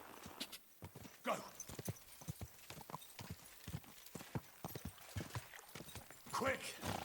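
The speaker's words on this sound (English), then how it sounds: "He's a good horse." Horse hooves clip-clop in a quick galloping rhythm in the video game Kingdom Come: Deliverance II, with occasional snorts and a voice speaking over the thudding steps.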